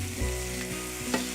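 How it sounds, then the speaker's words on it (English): Small red chilli sizzling in a very hot pan as it is moved about, a steady close hiss with a soft scrape or two and no voices. "So move that about the pan. I've got the pan very hot."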